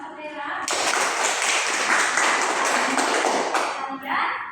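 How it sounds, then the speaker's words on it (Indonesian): Children in a classroom clap together for a classmate after a math lesson, a loud, dense burst of clapping lasting several seconds, with a few voices heard before and after. "Silakan tepuk tangan untuk Kakak Tera."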